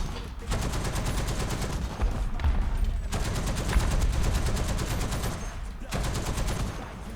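Tank cannons and machine guns fire in War Thunder, a 6.7-tier battle featuring the T-34. The fire comes as dense, rapid bursts with short breaks between them, while people talk excitedly over the shooting.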